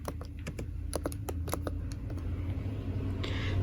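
Steady typing on a computer keyboard, a quick run of close clicking keystrokes over low background hum, with no voice.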